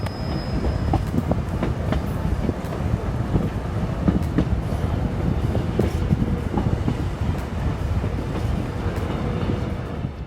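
A train rumbles steadily along the rails through the Andes from Cusco to Puno, Peru, wheels clattering in a continuous rhythm with faint squeals, loud and close throughout.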